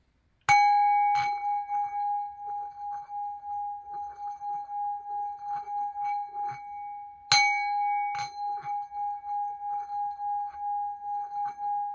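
A bell struck for energy clearing rings out twice, each strike a bright metallic ding followed by a long, steady, pure sustained tone that lingers between hits, with faint soft background noises.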